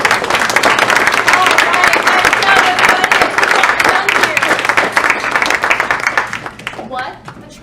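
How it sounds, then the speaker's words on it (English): A theatre audience bursts into loud, sustained applause at a stage comedy, dense clapping from a large crowd that holds for several seconds, then thins out and fades toward the end. "Can we have some applause?"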